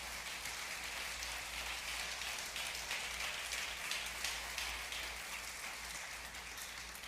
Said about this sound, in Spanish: Denle ese aplauso al Señor Jesucristo